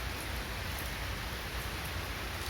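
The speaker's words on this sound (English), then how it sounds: "it is raining. It is so beautiful." Rain falls steadily in a soft, even hiss with faint scattered patter, continuous and unbroken, with no voices over it.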